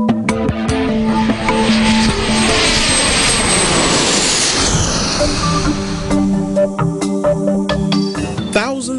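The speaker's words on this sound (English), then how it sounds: "Let's begin as we get cleared for takeoff." A passenger airplane's engines roar as it is cleared for takeoff, a loud continuous whine and rumble with a tone sweeping downward and steady harmonic hums throughout.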